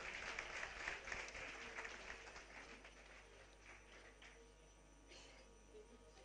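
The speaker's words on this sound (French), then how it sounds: "Merci de les applaudir encore une fois." Audience applause at a school tour gala dinner in Ségou, Mali: a dense wash of clapping from many hands, loudest at the start and gradually fading, heard from a moderate distance in a large room.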